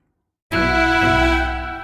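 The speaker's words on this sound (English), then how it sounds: "It's played on the woodwinds, on the flute and the oboe." Flute and oboe carry a woodwind melody for a Final Fantasy VIII piece, entering abruptly after a short silence and holding a sustained, close tone that slowly fades.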